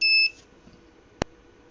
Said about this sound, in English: 2 beeps, that's good.